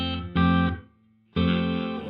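A Donner delay and reverb pedal set to room reverb with decay at minimum, giving two loud sustained electric guitar chords, each cutting off with almost no tail, heard alone.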